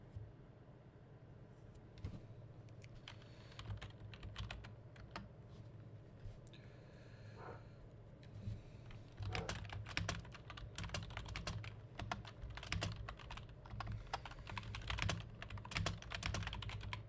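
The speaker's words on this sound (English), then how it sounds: "Sorry about the typing, guys. I just gotta do the typing." Steady clicking of computer keyboard keys, quiet at first and then quicker and busier in the second half, with a low hum running underneath and no talking.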